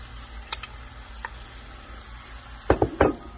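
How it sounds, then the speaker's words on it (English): Peas and green onions go into a pan of vegan pineapple fried rice, making a few sharp utensil clinks and taps followed by a louder cluster of scraping stir-fry knocks near the end, under a faint sizzle. "And I'm going to also add the peas and the green onions."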